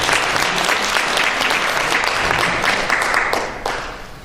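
Audience applause at an international fire investigation conference in Korea, a dense steady roomful of clapping that carries on evenly before thinning slightly near the end.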